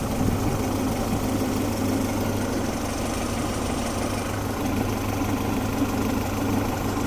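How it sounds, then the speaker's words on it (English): A car with an H2B engine idles after its timing belt fell off when the idler pulley bolt broke, giving a steady, low, even rumble with a faint knock and no talking. "I know once I left my foot off of this clutch, it's gonna start to idle lower."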